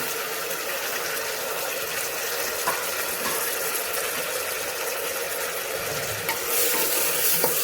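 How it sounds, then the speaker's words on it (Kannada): Vegetables including capsicum, field beans and long-cut tomatoes stirred and frying in a pan, a steady dense sizzle with scraping stir strokes, close and continuous with no talk. "ತರಕಾರಿನ ಹಾಕ್ಕೊಂಡ್ಮೇಲೆ ಒಂದ್ಸರಿ ಚೆನ್ನಾಗಿ ಮಿಕ್ಸ್ ಮಾಡ್ಕೊಳ್ಳಿ"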